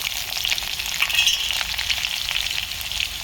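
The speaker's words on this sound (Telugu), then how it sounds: "ఇప్పుడు పచ్చిమిరపకాయలు, ఉల్లిపాయలు వేస్తాం." Green chillies and chopped onions hit hot oil already crackling with mustard seeds, giving a steady, close sizzle with light stirring scrapes running throughout, no voices.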